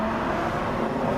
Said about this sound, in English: Yeah, that's cars.